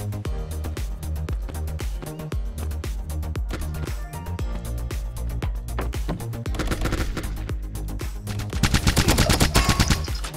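Rapid automatic gunfire bursts from the online shooter game Fire Strike Online crackle loudly in tight, repeated volleys, growing denser and louder near the end.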